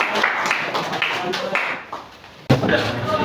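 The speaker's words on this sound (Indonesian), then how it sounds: "tepuk tangan untuk mereka" Classroom group applauding fellow students after a group presentation, a loud patter of clapping that fades and then bursts back in sharply, with voices mixed in.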